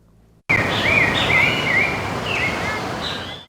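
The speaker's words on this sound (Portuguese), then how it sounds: "Sons de pássaros" Birds sing in a city park, with several clear, short whistled phrases rising and falling over steady background ambience, moderately close and repeated through the stretch.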